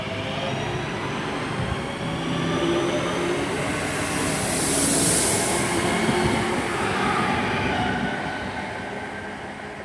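Class 323 electric train pulls out of Selly Oak station with a steady rumble and rising motor whine. Faint squeals swell and fade over about ten seconds.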